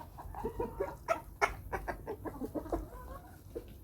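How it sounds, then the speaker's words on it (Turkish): A free-range hen clucks repeatedly around laying an egg, a loud, agitated run of calls, close by and rising in intensity, with no talking. "Tavuğumuz yumurta yaptı herhalde ya da yapacak. Bağırıyor."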